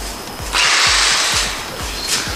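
A small, lightweight drill-like power tool used for polypropylene pipe welding and press-fitting work whirs steadily in short bursts, with a rhythmic ticking underneath, rising louder midway then easing.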